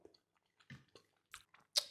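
Toast topped with shakshuka egg and vegetables being chewed, close and quiet, with a few soft crunchy bites spaced irregularly and a sharper bite at the end, no talking.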